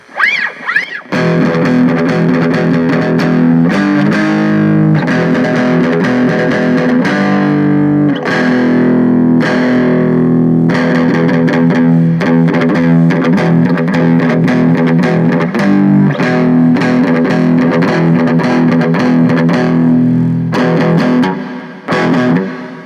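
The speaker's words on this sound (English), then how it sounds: "It's kind of like it's almost like a speaker rattle." Distorted electric guitar played low and loud through a Boss Katana Mini X amp on the neck pickup, sustained chords with a buzzing, rattling speaker edge, continuous for the whole stretch.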